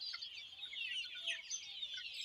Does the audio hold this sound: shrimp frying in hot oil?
no